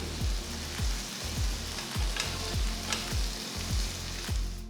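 Chopped onion and tomato fry in a pan as a dal khichdi base, a steady close sizzle with a regular series of low scraping stirs roughly every half second and no talking.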